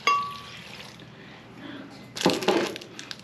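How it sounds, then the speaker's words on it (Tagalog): Water is poured into a drinking glass, a short burst of splashing and clinking that rises near the end after a quiet stretch, close and fairly clear. "Tapos lalagyan po natin ng tubig"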